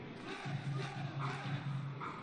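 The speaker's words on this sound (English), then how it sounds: "Oh, the crowd's up for it." A stadium crowd in the OOTP 20 baseball video game rumbles with a steady, low cheering murmur, a broad, constant roar of many voices at moderate loudness.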